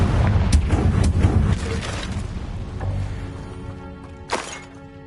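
Confringo spell blasts in Hogwarts Legacy: loud booming bursts over a dense rumbling battle din, one sharp blast near the end, then fading.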